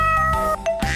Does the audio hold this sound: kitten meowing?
yes